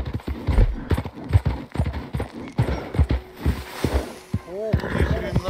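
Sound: horse galloping hooves in Red Dead Redemption II video game

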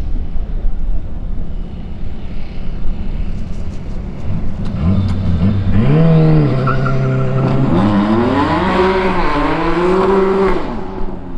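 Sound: Porsche biturbo race car passing at full power

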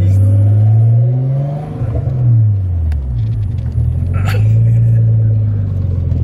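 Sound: car pulling up and revving

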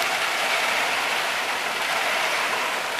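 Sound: heavy rain during Hurricane Irma

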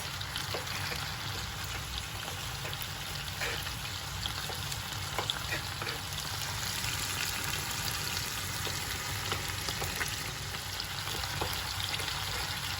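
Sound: chicken frying in a pan

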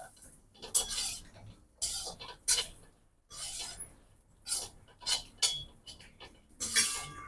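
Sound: sautéing raisins in ghee in a pan

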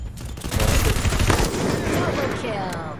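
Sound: gunfire in the video game Free Fire

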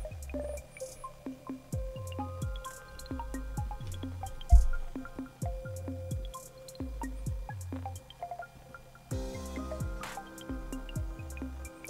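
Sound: water draining from toilet cistern

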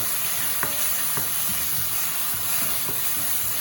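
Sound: tomatoes frying and being stirred in a pan

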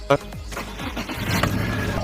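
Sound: Honda car engine starting with faulty fuel injector

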